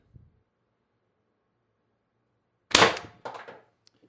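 A single sharp pop of a TR50 Torpedo air gun firing a 12.7mm ball bearing through a tuning barrel, loud and close, followed by a brief rattling tail in an otherwise quiet space.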